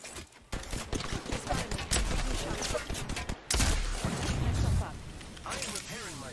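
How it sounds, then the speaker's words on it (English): Gunfire in the battle royale shooter Apex Legends: a dense run of sharp shots and bursts, loud and close, with voices talking over much of the fighting. "Opening fire."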